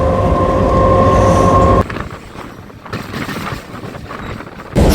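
Inside a moving passenger train near Tarakeswar, a loud steady rumble with a tonal hum gives way abruptly to lower rattling carriage noise, then the loud rumble returns at the end, with no talking.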